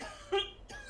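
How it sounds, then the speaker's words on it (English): A single short cough in a quiet room, one brief dry burst, close and soft, followed by a faint second breathy hack. "You have any medicine for your cough?"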